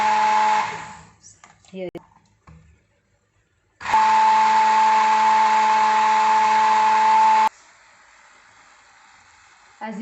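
A kitchen blender whirs loudly and steadily for about four seconds as it purees boiled vegetables, then stops abruptly. Brief speech and handling noises come before it, and a low hum follows.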